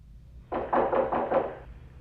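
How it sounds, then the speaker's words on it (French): Five quick knocks on a door in a dramatic TV series, evenly spaced and fairly close, with nothing else heard. "quelqu'un frappe à la porte"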